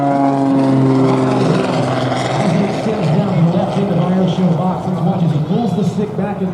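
At an airshow in Rome, Georgia, an aerobatic airplane pulls through a maneuver, its propeller engine droning loudly with rising and falling pitch, while a commentator talks over it throughout.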